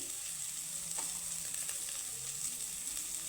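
Chopped carrots frying in a pan and being stirred, a steady close sizzle with faint scraping movements throughout, no talking.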